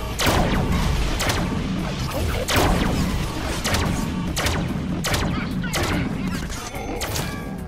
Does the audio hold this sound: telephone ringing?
no